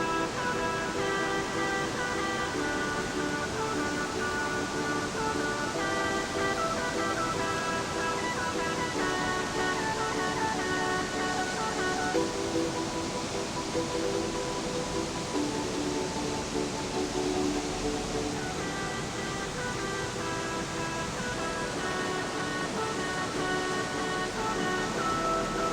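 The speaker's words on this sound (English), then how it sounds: "the rivers were becoming more and more spectacular, with dramatic waterfalls and raging torrents blocking our path" Raging mountain river torrents and waterfalls in Patagonia roar as a steady, loud, broadband wash of rushing water with no pauses, alone apart from a faint tonal hum running underneath.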